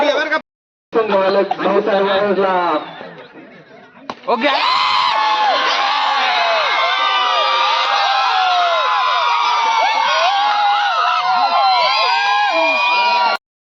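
A dense crowd at a village cricket final roars and shouts continuously on the ground, with loud cheering and whoops sustained after a brief pause, voices mixing in.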